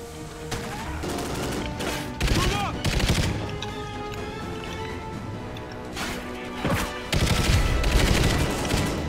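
Gunfire in the video game Call of Duty Ghosts, loud repeated automatic bursts with crashing impacts and short pauses, sometimes overlapping, close and dominant.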